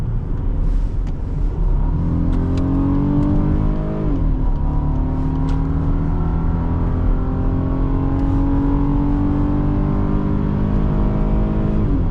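A 2019 Volkswagen Atlas SEL V6 4MOTION engine accelerates steadily from inside the cabin, its rumbling drone climbing in pitch through the gears with brief shift dips, loud and continuous without talk.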